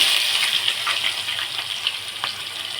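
Onions sizzle loudly in hot oil with whole dried chillies, mace, garam masala and cumin in a pan for mutton handi; a continuous close hiss with faint crackling pops throughout, no talking.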